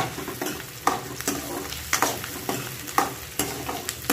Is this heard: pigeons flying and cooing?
no